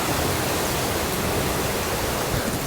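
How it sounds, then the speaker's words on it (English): Water rushes onto a beach in a Hawaiian cove, a steady, dense wash of broadband surf and flow that stays loud and unbroken throughout, with no voices over it. "anytime you get water flowing onto a beach"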